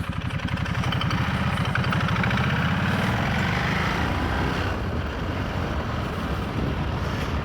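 A Ducati Multistrada motorcycle engine runs steadily while being ridden, a continuous close throbbing drone that shifts pitch slightly as it pulls, loud throughout with no voices.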